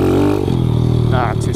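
Kawasaki KLX 110 pit bike engine revving in second gear on sandy ground, a close, buzzy single-cylinder drone that climbs and wavers over a second and a half, partly under a rider's voice.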